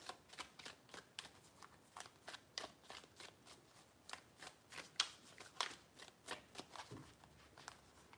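A tarot deck is shuffled by hand in quick, papery riffles, a string of crisp, evenly spaced bursts close up and alone.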